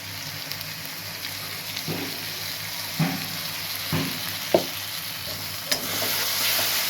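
Spice paste, added after garlic paste, frying in a wok: a constant, loud sizzle broken by periodic scraping strokes of a spoon stirring roughly every second, with no talking.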